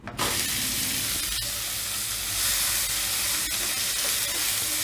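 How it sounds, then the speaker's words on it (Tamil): Two finely chopped onions hit hot oil in a kadai already holding cumin seeds and asafoetida, setting off a steady, close sizzling hiss that continues unbroken with a few faint clicks. "இப்போ பொடியா நறுக்குன 2 வெங்காயம் சேர்த்துக்கோங்க."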